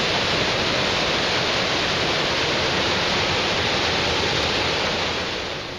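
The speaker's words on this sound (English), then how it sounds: "Boy, that's some rough water right there." Loud, steady roar of rushing floodwater in Ozark, Missouri, a dense unbroken churn filling the whole clip without pause.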